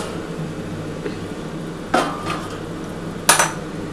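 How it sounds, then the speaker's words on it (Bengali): A metal lid comes off a cooking pot of pumpkin and egg simmering on low gas, heard as two sharp metallic clanks about a second apart over a faint background hiss, close and without talking. "আমি এবার ঢাকাটা খুলে দেখি।"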